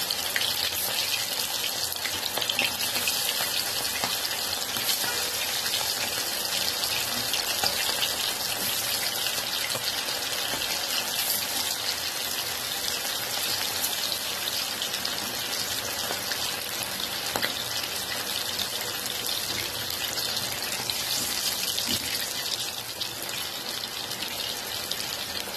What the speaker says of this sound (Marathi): मी फुल तेलामध्ये तळणार आहे.